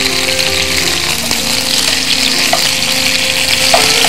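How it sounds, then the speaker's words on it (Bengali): Beef chap fries loudly on a large wok or flat tawa, a dense, continuous close-up sizzle with faint utensil movement and no voices. "এইভাবে ভাজতে থাকে বড় কড়াই বা ফ্ল্যাট তাওয়ার উপরে"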